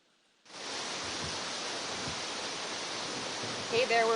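Steady rain and gusting wind out on an open disc golf course during a women's pro tournament round, a continuous loud broadband hiss that starts abruptly and holds evenly, with faint chirps near the end.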